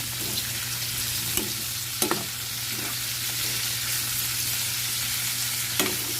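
String beans and pork fry in a pan with a continuous loud sizzle, a low steady hum beneath, and a few sharp clinks from stirring.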